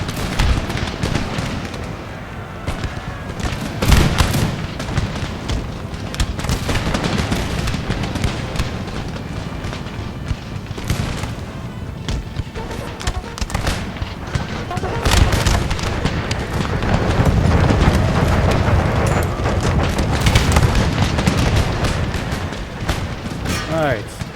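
Troops firing muskets on an Empire: Total War battlefield, a long rolling mix of scattered shots, volleys and booming cannon-like blasts, under frequent talking.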